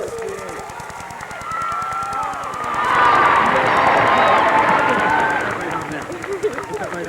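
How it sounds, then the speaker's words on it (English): Crowd at a high school all-star football game cheers and applauds a band scholarship recipient, a broad roar swelling midway and holding, with scattered claps; a voice speaks over the noise. "How about a round of applause here for Laura?"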